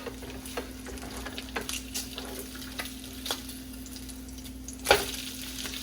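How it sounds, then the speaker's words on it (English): Bacon strips fry in a skillet at home while breakfast is cooked, a soft steady sizzle broken by scattered crackles and clicking utensil taps, with one sharper spatter near the end; no one speaks. "I'm about to flip this bacon"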